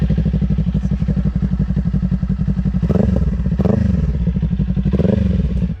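A Kawasaki Ninja 400 motorcycle engine runs close by with a steady, loud, rapid pulsing throb, swelling slightly in a few brief revs before cutting off at the end.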